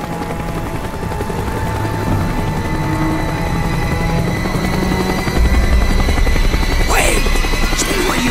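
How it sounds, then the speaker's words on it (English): A helicopter in the Black Ops video game, set on Rebirth Island, circling overhead with a steady, loud rotor drone under ambient game noise that swells louder toward the end. "The chopper is coming around again."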